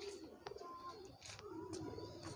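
Pigeons at a pigeon seller's loft in Domjur, Howrah coo softly in short repeated phrases, quiet and fairly close, with faint background noise.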